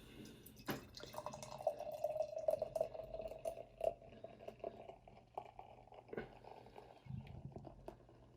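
Dark double chocolate dry stout pouring into a glass, a steady trickling flow that foams and drips for several seconds, close and quiet, with light handling noises around it.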